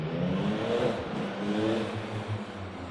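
A 2024 Yamaha MT-09 motorcycle engine, a demo bike, revs up close and loud, climbing and falling in pitch through a couple of throttle blips before settling back down.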